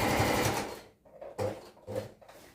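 A sewing machine runs in quick bursts while back stitching a seam on baggy pants. A long run is followed by two short, close stitching spurts separated by brief pauses.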